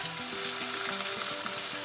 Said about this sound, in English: Now our main ingredient, our chili paste, which was soaked in boiling water, then we blended it, goes in our wok.